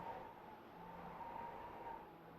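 A Mazda MX-5 race car in the iRacing simulator on the Charlotte Roval slides and scrubs its tires through a chicane, a faint steady tire squeal over a low engine drone.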